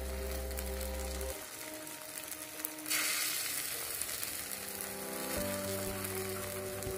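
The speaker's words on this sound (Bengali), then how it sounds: "প্রথমে ডিমের 1 পিঠটা আমি একটু ভেজে নেব" Egg frying in a pan for a Bengali egg curry, a steady close sizzle that drops back briefly and then swells again, with low background hum at the start and end and no talking.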